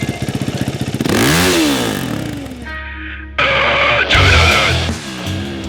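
A Kawasaki Ninja sport motorbike ridden on a sandy motocross club track: close, loud engine revving and climbing, with sharp shifts, brief drops and renewed bursts of throttle.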